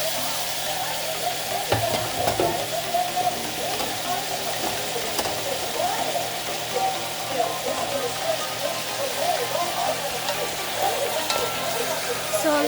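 Chicken browning and simmering in a pot for tinola gives a steady, close sizzle and bubbling that runs without a break, with occasional faint clinks in the background.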